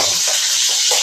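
Vadas fry in hot oil, giving a loud, steady hiss and crackle right up close with a few soft bubbling swells underneath, and no one talking.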